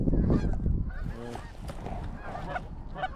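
Geese honk loudly and close during an early-season goose hunt in North Dakota, a dense overlapping chorus of calls that carries on throughout with no speech.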